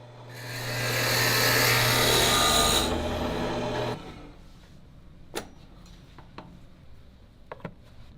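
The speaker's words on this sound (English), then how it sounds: "A hole is drilled in each piece for a metal tube." A power drill bores a hole into a wooden pen blank with a loud, steady whirring grind for about three seconds, then stops, followed by a few faint knocks and clicks.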